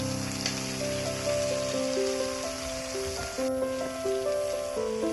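Garlic paste hitting hot oil in a pan for a Bengali tangra fish curry, giving a steady, close, crackling sizzle like rain on a surface that carries on without a break.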